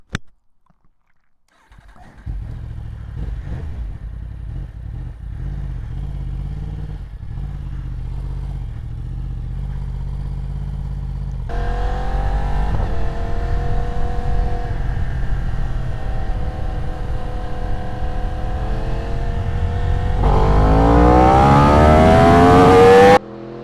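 A Yamaha R1 motorcycle accelerates hard through the gears during a wheelie control test, starting from quiet idle and building into a loud rising engine howl with upshifts, close by and without talk.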